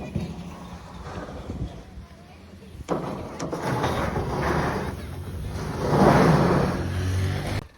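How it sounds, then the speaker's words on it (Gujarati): A tractor is driven onto a goat farm construction site. Its engine rumble swells and grows closer, and people talk over it. "અત્યારે ટ્રેક્ટર લાવી રહ્યા છે"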